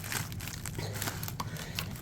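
Scissors cutting open a plastic bead box package, with quiet crinkling, snipping and rustling of plastic in rapid irregular bursts, close to the mic.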